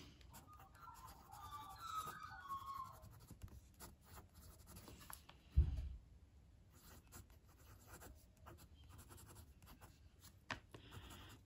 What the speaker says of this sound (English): So let's do a writing sample now.